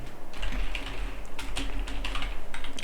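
Steady typing on a computer keyboard while entering values into a database table, with quick irregular key clicks and occasional louder taps over a low background hum, no voices.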